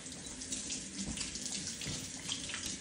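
Tap water runs steadily into a sink while hands are washed, a continuous close splashing hiss with small irregular splatters throughout.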